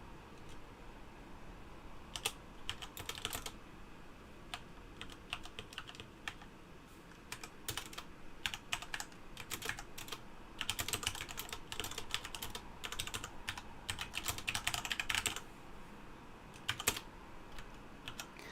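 Fingers type on a computer keyboard while writing code, with quick uneven bursts of soft key clicks and short pauses throughout, faint and close with no talking.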